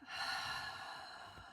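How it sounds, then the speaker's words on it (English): A slow, steady breath drawn in, soft and close, filling the short moment on its own with no talking. "So just breathing in"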